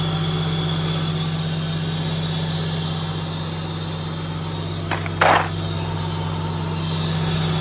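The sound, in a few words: car engine idling while warming up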